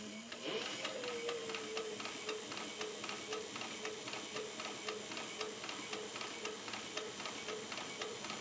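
Industrial sewing machine stitching firefighter suspenders, running steadily forward with a fast, even ticking stitch rhythm and a faint mechanical whine, close and alone without talk.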